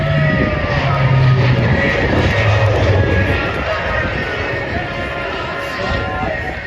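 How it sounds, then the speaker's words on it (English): Roaring turboprop engines of a Lockheed C-130 making a low pass at an airshow, loud and steady before easing slightly as it moves off, with a voice speaking over the drone. "Their C-130 then did a low pass at the same airshow."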